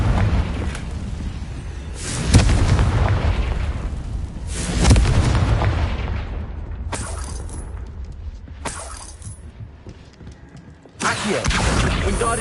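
The Confringo blasting curse in the Hogwarts Legacy video game, heard as loud, booming explosions with shattering debris, several heavy blasts in succession with brief pauses between.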